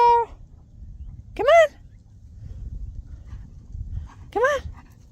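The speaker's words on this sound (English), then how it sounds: "we are going to go home with two very wet and muddy dogs" Two wet, muddy dogs outdoors let out high, rising whimpering yelps: one at the start and two louder cries a few seconds apart, with soft rustling and wind between them.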